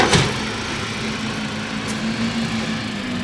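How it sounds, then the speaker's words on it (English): A garbage truck drones nearby with a low, steady engine hum and rumble, opened by a short burst of hiss, and nobody speaks over it. "that's a garbage truck."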